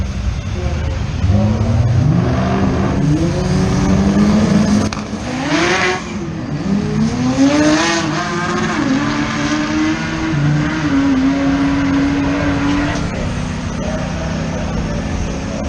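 Race cars including a Mazda RX-7 driving on a track, loud engines revving and shifting through rising and falling pitch sweeps continuously throughout, with spectators talking over the engine noise.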